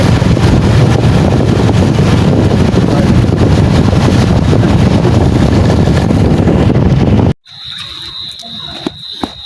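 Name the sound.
riding a motorbike with wind noise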